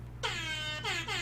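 A loud air horn sound effect blasts twice, a long sustained honk followed by a shorter second burst, close and alone with no talking.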